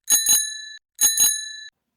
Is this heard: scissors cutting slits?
no